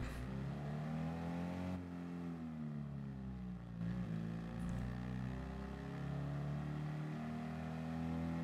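A car engine in a driving video game drones steadily near its top speed of about 68 miles an hour, its pitch rising and dipping slightly. The engine is loud and close, with no other sounds over it.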